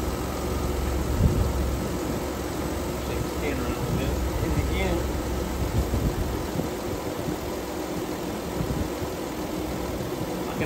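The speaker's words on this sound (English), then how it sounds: "Literally hear the engine, the compressor and the engine load up." A Jeep engine idles with its A/C compressor engaged, making a steady low rumble and hum that holds throughout at an even level, with a voice faintly present.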